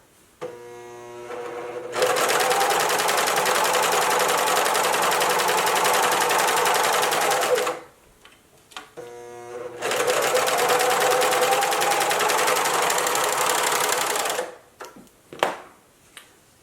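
A JUKI sewing machine stitches fabric ties for an embroidered face mask in two long loud runs of rapid, even mechanical chatter, separated by a short pause and ending in a few light clicks.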